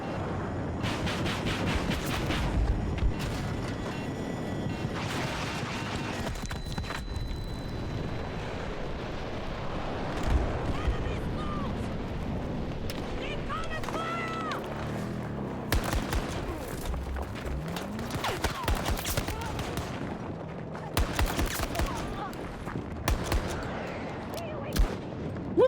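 Rapid bursts of 12M auto shotgun fire in the shooter game Battlefield 2042, loud repeated blasts and heavy explosions crowding a chaotic battlefield, with dense combat noise throughout.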